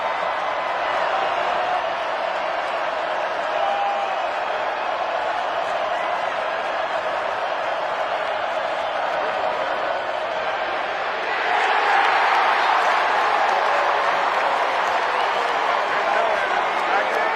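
Crowd at a 2017 NCAA football game between North Carolina and NC State, a steady wash of stadium noise under a commentator's voice that swells into louder cheering near the end.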